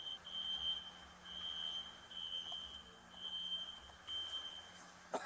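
A Walmart store's smoke alarm beeps in repeated high, piercing tones, heard faintly and at a distance over a low indoor hum.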